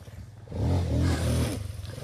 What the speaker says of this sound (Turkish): motor geldi geliyor